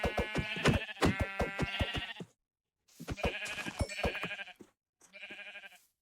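Sheep bleating in the Minecraft video game, a run of repeated blocky bleats with sharp rhythmic onsets, then two shorter bursts after brief silences, loud and alone with no talk.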